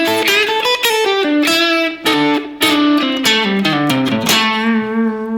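Distorted electric guitar plays a blues lick through the turnaround, moving over the one-over-five chord: a quick run of bent and picked notes, loud and close, ending on a held note.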